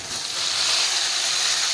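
Steady hiss of potatoes dropped into frying onions in a pan while making katla fish curry, a broad continuous sizzle that swells after a brief quieter start and holds evenly.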